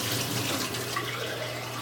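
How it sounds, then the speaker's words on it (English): Tap water runs steadily into a sink to rinse a wine thief used for home red wine making, a continuous close hiss of flowing water with no voices. "Give it a good rinse."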